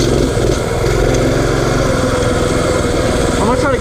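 A small single-cylinder generator engine powers a mini bike, buzzing steadily and loudly up close while riding, with wind and rushing noise over it.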